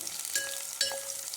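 Onion fries in oil with curry leaves and seasoning for a bottle gourd curry, making a steady close sizzle with two brief metallic clinks of a stirring spoon.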